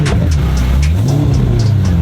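A 760LH car engine paired with a manual gearbox rumbles loud and close, its deep exhaust note rising and falling as the revs shift.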